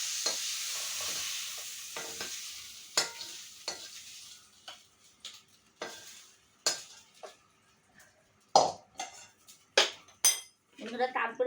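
Prawns fry in a pan, with a soft sizzle at first that fades, then intermittent metallic scrapes and clinks as a utensil stirs against the pan, sounding close and in uneven bursts.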